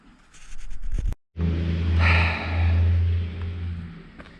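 A skid steer engine runs on a farm, a loud steady rumble that cuts out briefly and then returns, swelling and easing in a continuous drone with no talk.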